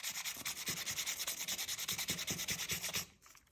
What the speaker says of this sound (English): I'm going to just go over with the same super fine sandpaper again